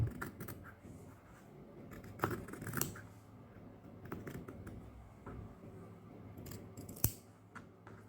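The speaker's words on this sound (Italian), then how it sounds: "Adesso con la forbice basterà che vado qui e cancello e taglio." Scissors snip through the fabric cuff of trousers or a sweatshirt, a few sharp close cuts over a soft rustling background.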